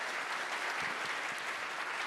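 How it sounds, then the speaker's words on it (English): At an international financial leaders' investment summit, a conference audience gives the panelists a continuous round of applause, an even wash of clapping heard at a distance and fairly soft. "a huge round of applause for our wise panelists"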